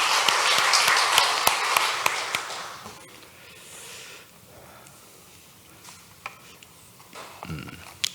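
Congregation applause in a church service, a burst of many hands clapping that fades after a few seconds, leaving a quieter room with scattered taps and faint rustling.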